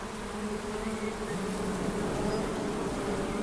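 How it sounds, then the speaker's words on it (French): A steady, dense buzzing of many honeybees close by at a hive being smoked, a continuous low drone that holds level throughout with no voices. "là je mets un peu de fumée dans la ruche pour calmer les abeilles"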